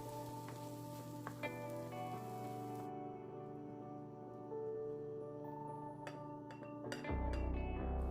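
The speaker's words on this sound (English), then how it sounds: "Allow the onion and chestnuts to cook for a few minutes before adding the Brussels sprouts, salt, and any additional herbs and spices" Onion and chestnuts sizzle steadily in a frying pan for a plant-based holiday side with Brussels sprouts, a constant close hiss broken by a few stirring clinks and scrapes.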